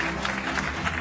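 A studio audience applauds the entrance of a singer on a French television show, a brief burst of dense, steady clapping with no speech.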